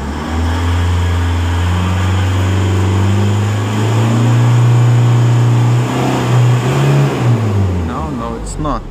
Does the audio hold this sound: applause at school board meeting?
no